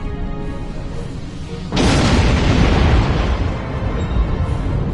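Starship weapons fire and explosions in the space combat game Star Trek Online: a low rumbling drone gives way to a sudden, loud blast that keeps roaring close by, with no talk.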